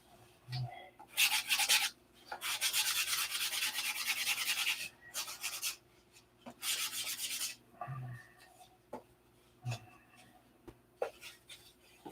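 Hand sanding on wood with fine-grit paper after an earlier 80-grit pass, heard as close, dry scratchy strokes in uneven bursts separated by short pauses, with light knocks and handling noises between them.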